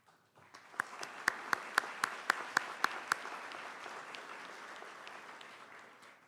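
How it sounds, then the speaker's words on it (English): Applause from a commencement ceremony audience at the Spring 2019 NSCC nursing and allied health graduation, with a few sharp, close hand claps standing out over a steady wash of distant clapping that slowly fades. "I ask that you all stand and be recognized for a round of applause."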